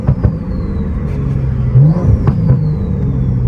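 A BMW M340i engine and exhaust rev near walls, the loud mid-pitched drone rising and falling with sharp whining sweeps, close and alone without talk.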